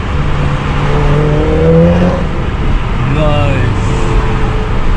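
A Mitsubishi Evo 6 accelerating hard, its engine note rising through rising and falling gear pulls, loud and close inside the car, with people talking over it.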